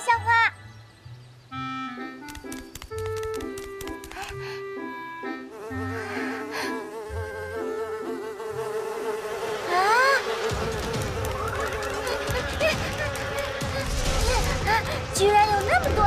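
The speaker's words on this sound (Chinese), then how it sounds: "居然有那么多蜜蜂把守" A swarm of bees buzzes in an animated cartoon, a busy mix of whining insect tones alongside musical notes and a child-like cartoon voice, the buzzing swelling louder and denser in the second half.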